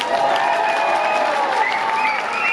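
Dense, steady applause from a large crowd at a film promotion event in Kozhikode, Kerala, with some cheering and voices mixed into the continuous roar.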